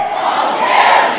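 A church congregation shouts together in one brief, loud, sustained collective cry, a massed crowd of voices rising as one.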